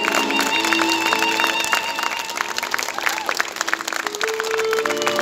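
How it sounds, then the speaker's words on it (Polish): Sustained applause and crowd noise at an outdoor summer theatre festival in Białystok, greeting the Aleksander Węgierko Drama Theatre ensemble, with clapping layered under steady music and tonal background sound. "wielkie brawa przed państwem zespół Teatru Dramatycznego"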